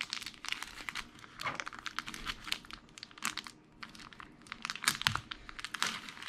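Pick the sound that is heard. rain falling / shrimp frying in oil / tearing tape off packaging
tearing tape off packaging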